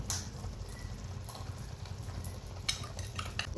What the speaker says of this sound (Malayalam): ഇതെല്ലാം കൂടെ ഒന്ന് ഇളക്കി യോജിപ്പിക്കും